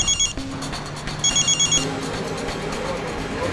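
A telephone rings in a police station, with short bursts of bright electronic trilling repeated in pairs, loud and close, over low background sound with no talking.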